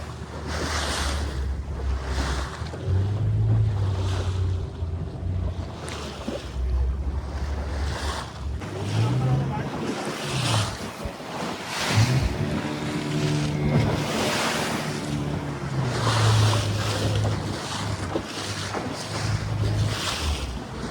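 A fishing boat's engine drones steadily at sea, with waves washing and wind gusting around it. The sound is continuous and fairly loud, with no talking.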